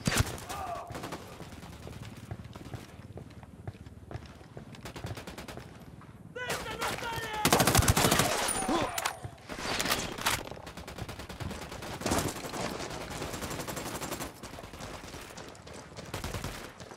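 Sustained bursts of rifle and automatic gunfire in the Ghost Recon Wildlands video game, a close, crackling volley that swells and fades over several seconds, with brief speech in between.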